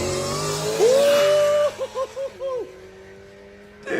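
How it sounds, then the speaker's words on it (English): A supercharged car engine revs, its rising supercharger whine sweeping up and then pulsing in several short bursts over a steady rumble, loud and close, with a voice talking underneath. "That you hear that supercharger just whining."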